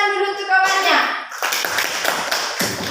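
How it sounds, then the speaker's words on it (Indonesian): Grade 3 and 4 pupils clap for a classmate in a classroom, a burst of quick, overlapping hand claps right after a spoken phrase, near and lively. "Tepuk tangan dulu untuk kawannya."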